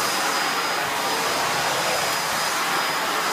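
A Dyson DC17 vacuum cleaner running steadily, a loud, constant whooshing roar with a thin high whine on top, unbroken throughout and with no talking.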